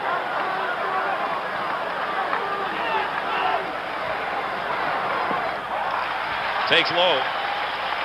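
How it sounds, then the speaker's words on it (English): A baseball crowd at Fenway Park during a 1975 World Series game keeps up a steady, dense roar of cheering and hubbub, with a broadcaster talking over it. "Crowd is turned on here at Fenway Park"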